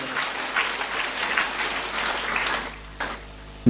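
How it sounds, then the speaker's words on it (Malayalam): A church congregation at a Catholic prayer service claps steadily to thank the Lord, a dense wash of applause that tapers off near the end, leaving a brief quieter gap before a final sharp sound. "കൈയടിച്ച് കർത്താവിന് നന്ദി പറയാം."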